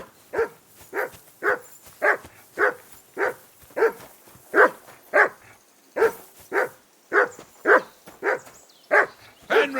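Dog in the video game Kingdom Come: Deliverance 2 barking in a steady, evenly spaced series of about twenty sharp barks over ten seconds, moderately close and alone without talk.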